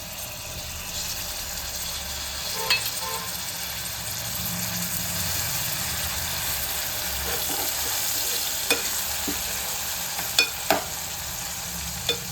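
Tomatoes and sweet corn fry in a pan for a dhaba-style makai nu shaak, giving a steady close sizzle with a few sharp clinks of a stirring utensil against the pan and no talking.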